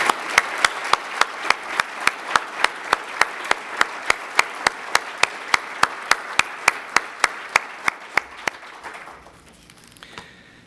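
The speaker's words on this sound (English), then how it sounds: "please give Chief Johninger a round of applause" Steady rhythmic clapping from an audience honoring a city police chief at a State of the City address, even loud claps at a regular pace for about eight seconds before fading out.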